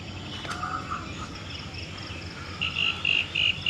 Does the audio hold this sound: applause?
no